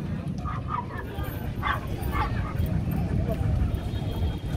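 Akita and Shiba Inu dogs, small and large, gathered at an outdoor owners' meetup in Hanoi give a few short, scattered barks and yips over steady crowd chatter and nearby talking.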